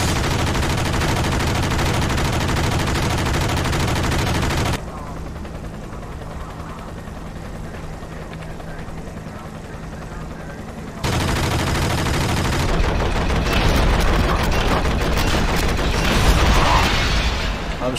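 Loud, sustained automatic gunfire in the 2003 Enter the Matrix video game, dense rattling bursts that drop to a quieter stretch midway before the shooting resumes just as heavily, no talk.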